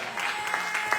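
A church congregation applauds the Lord at an anniversary celebration, a brief burst of dense, fairly close clapping with a few sharper claps standing out.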